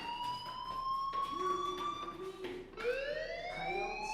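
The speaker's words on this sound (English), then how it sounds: "do you hear that fire alarm?" A fire alarm in the video game Life Is Strange wails with rising and falling electronic tones, steady and fairly loud, with bursts of background game sound mixed in.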